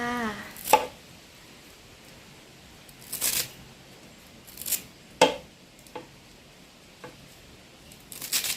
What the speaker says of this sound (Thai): หั่นลงไปเลยจ้า